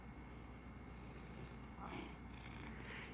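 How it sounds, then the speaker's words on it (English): A cat purrs in a close, continuous low rumble, quiet and steady throughout with faint background noise. "I'm sure you can hear her purring because she's the loudest thing ever."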